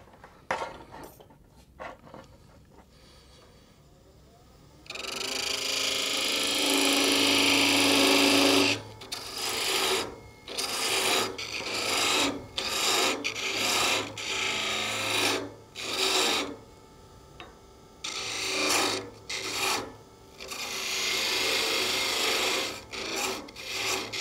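A parting tool cuts into timber spinning on a wood lathe while a candle holder is turned, making a loud, raspy scraping that comes in long passes and choppy bursts over a steady low motor hum, after quieter knocks at the start.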